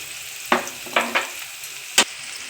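Chopped capsicum goes into onion frying in two spoons of oil for gobi manchurian, a soft steady sizzle broken by four distinct clacks of a spoon stirring the pan, close and without talk.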